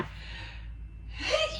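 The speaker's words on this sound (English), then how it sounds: "I gotta sneeze." A single sneeze, a sharp breathy burst near the close preceded by a soft intake of breath, close and fairly quiet against a low background hum.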